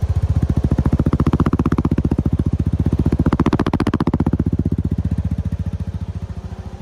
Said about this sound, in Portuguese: Olha só o som desse escapamento.